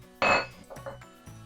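Utensil clinking and scraping in a mixing bowl as flour, sugar, nutmeg and baking soda are stirred together for a banana cake batter, with one loud clatter followed by a few softer knocks, no talking.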